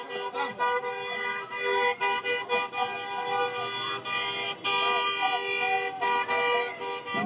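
Car horns honk repeatedly in support of a street protest in Louisville, long sustained blasts and quick toots overlapping in a steady chorus, with crowd noise underneath.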